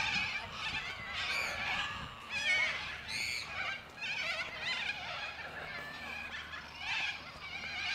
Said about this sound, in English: you can see all those white cockatoos in the trees over there